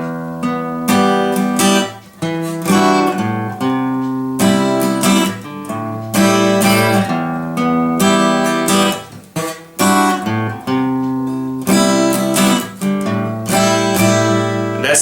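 Guitar playing the chord intro of a song, with steady rhythmic strummed chords ringing clearly and continuously, with no voices.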